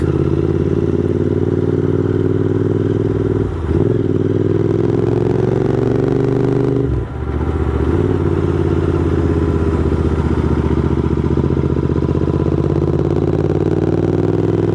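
A Royal Enfield GT 650 motorcycle rides through fog in Dubai, its engine a steady, loud, close drone with two brief dips in the note along the way.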